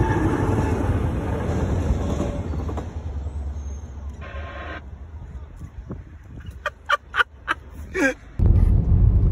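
A train rushes past with a loud, steady rumble, the roar thinning midway before a series of short, sharp tonal bursts ring out near the end and the heavy rumble returns.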